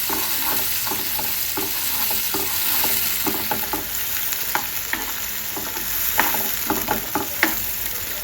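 Spicy Malvani chicken sukha sizzles in oil over a low flame, with soft steady frying under frequent sharp clicks and scrapes of a spoon stirring in the pan.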